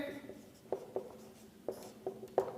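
A teacher writes on a board during an English grammar lesson, making a handful of quiet, light taps and short strokes spaced irregularly, with no talk over them.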